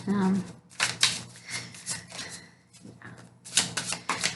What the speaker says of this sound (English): I need to shuffle this a lot, so bear with me